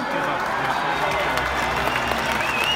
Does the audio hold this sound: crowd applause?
yes